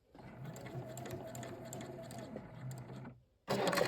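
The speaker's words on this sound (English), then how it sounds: "I'm going to pivot the quilt so that I'm stitching right on that line" A sewing machine stitches quilt binding into a corner with a fast, steady mechanical whir of about three seconds, then stops abruptly before a brief louder rustle at the end.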